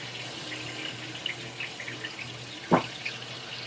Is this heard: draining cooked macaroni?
yes